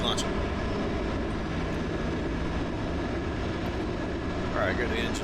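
Steady roar of jet engines on an aircraft carrier deck in a DCS flight simulator, a catapult launch blending into the continuous broadband engine noise, loud and unbroken throughout with no distinct onset.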